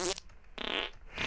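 Short comic fart noises from a toilet in a T.A.R.D.I.S. video game mod: a quick buzzy burst, a brief gap, then a longer raspy blast and the start of another, close and prominent.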